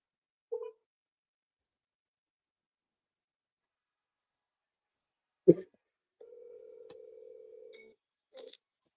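An outgoing phone call rings once in a quiet room: a single steady electronic ringback tone lasting over a second, with a few faint clicks and beeps before and after it.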